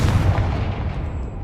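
A Confringo blasting spell explodes in Hogwarts Legacy, a single heavy boom with a deep low rumble that decays quickly across the brief moment, close and loud with no voices over it.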